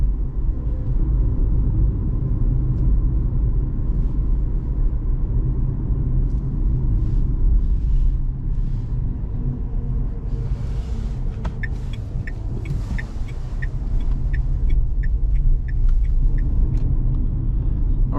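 A 2023 Dacia Spring Extreme electric car with 65 HP drives at night, giving a steady low road rumble and tire noise from inside the cabin, with faint ticking clicks partway through.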